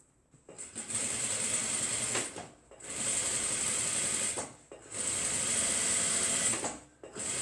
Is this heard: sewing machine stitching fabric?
yes